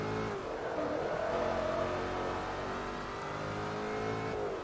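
A race car engine in Forza Motorsport 3 drones loud and steady, holding a high sustained note through a corner with slight pitch shifts, alone without voices.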